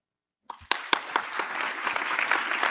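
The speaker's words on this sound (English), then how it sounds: "So I'm going to first ask for a round of applause." After a brief silence, an audience at a business conversation event breaks into a round of applause. A few scattered claps quickly build into steady, sustained clapping from many hands.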